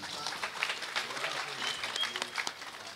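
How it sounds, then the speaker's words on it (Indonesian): At a Javanese religious gathering, the crowd gives a round of hand-clapping, a steady mid-level patter of claps with some voices murmuring underneath. "kula nyuwun tepuk tanganipun kagem Mas Ozi"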